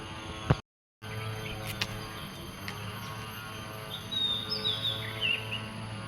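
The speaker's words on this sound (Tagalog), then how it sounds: "Sarap pakinggan ng huni ng mga ibon" Birds chirp and call faintly in the distance over a steady outdoor hum of insects, with a brief dropout near the start.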